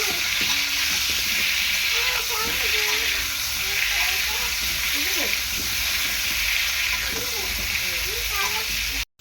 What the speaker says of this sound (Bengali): দেখো আলুটা ভেজে নিচ্ছি আমি ভালো করে